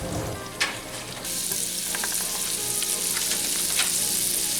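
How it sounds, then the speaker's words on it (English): Butter sizzling loudly in a frying pan alongside sausage and bacon drippings, a dense continuous crackle that swells as the butter hits the hot pan, with a few utensil clicks. "get that butter on down in there"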